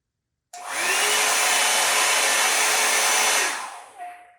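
A hair dryer brush switched on at its low setting, a steady loud whooshing blow with a faint whine that runs about three seconds, then cuts off and spins down.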